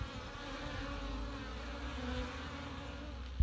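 Honeybees buzz around a beehive in an apiary, a dense, steady drone of many insects close by that continues throughout, with a brief knock near the end.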